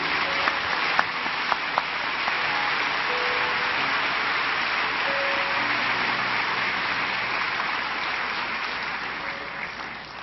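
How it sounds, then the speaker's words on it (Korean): A large church congregation of several hundred applauds to welcome visiting members, a dense, even wash of clapping that holds steady for about ten seconds before easing slightly, with no speech over it. "자리에서 일어나시면 우리 큰 박수로 환영하겠습니다"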